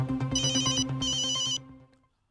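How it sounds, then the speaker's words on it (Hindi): A telephone rings in a Hindi sitcom scene, a bright electronic ringtone with a rapid trilling pattern in two bursts before cutting off, clear and close with no voices. "जल्दी फोन उठाइए।"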